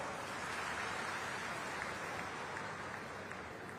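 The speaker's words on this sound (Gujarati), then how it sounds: "તાળીઓ તો પાડો." Dense, steady crowd applause fills the space at a public government event launching a recharge wells project in Banaskantha, sustained and even throughout without a break.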